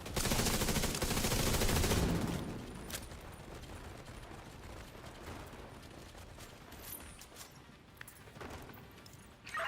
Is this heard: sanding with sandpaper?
no